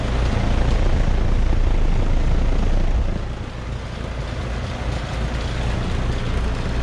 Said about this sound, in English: there's this Rheem value starting up